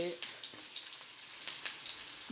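Chopped large onion fries in hot oil, a close, steady crackling sizzle with bright spits and pops throughout.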